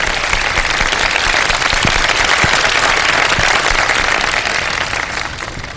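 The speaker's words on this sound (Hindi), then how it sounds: "अब एक दफा जरा भरपूर तालियां बजा दें।" A studio audience at an iftar television show claps loudly and steadily, a thick continuous wash of applause that fades slightly toward the end.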